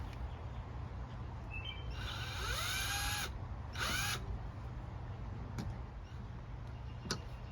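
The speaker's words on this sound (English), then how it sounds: "Now I'm going to drill a couple of pilot holes." Two short bursts of a high-pitched drill boring pilot holes for self-tapping screws cut through a quiet hum, one about a second long, then a briefer one, with small clicks afterward.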